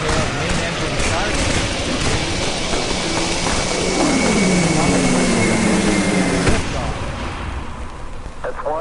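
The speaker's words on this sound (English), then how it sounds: "We have main engine start." Main engines of the Artemis II rocket roar at launch, a loud, dense broadband rumble that holds steady for several seconds before easing slightly, with voices talking over it.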